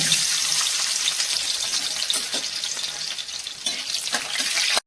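Garlic frying in hot oil in a pan for momo chutney gives a loud, steady, continuous sizzle with light stirring and scraping, running without pause until it cuts off abruptly at the end.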